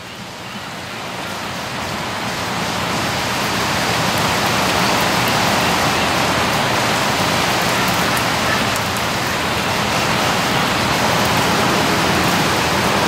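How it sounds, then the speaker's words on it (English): A downpour roars on, swelling over the first few seconds into a thick, constant wash of falling rain with no talking. "It's just pouring rain and they're looking for puddles of water to play in."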